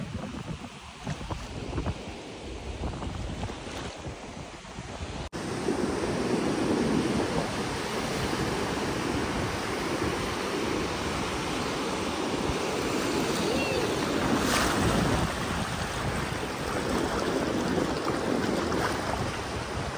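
Sea waves rolling and breaking on the beach at Alibaug in rainy weather, a loud continuous wash of surf with strong wind buffeting the microphone and distant voices faintly underneath.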